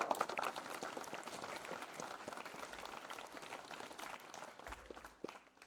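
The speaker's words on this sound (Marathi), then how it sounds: "त्यांच्यासाठी अप्रत्यक्ष टाळ्या वाजला" An audience applauds at a speech event, a steady rush of clapping from a crowd that holds throughout and thins slightly toward the end.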